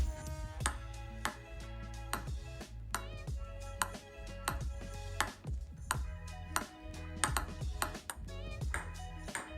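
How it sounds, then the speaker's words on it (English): Rapid, irregular hollow ticks of a ping pong ball bouncing on a table, mixed with a steady low hum and tonal layers; no talking. "I started with the sound that the ping pong ball makes when it hits the table."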